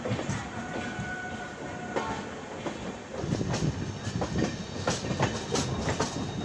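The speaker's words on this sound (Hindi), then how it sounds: "वापस सिलीगुड़ी कटिहार रेल लाइन की तरफ अब इंजन हमारी जा रही है" A train engine running on the Siliguri–Katihar rail line, with steady rumble and rhythmic clickety-clack of wheels over rail joints throughout, loud and close.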